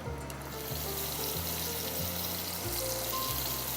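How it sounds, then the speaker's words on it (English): Food frying in hot olive oil, a steady close sizzle and crackle under a low tonal hum from the kitchen, continuous and even for a few seconds. "And just put them in hot oil and hot olive oil."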